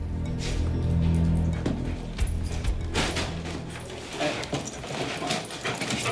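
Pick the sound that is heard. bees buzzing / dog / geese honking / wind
dog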